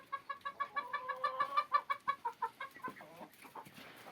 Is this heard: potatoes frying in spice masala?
no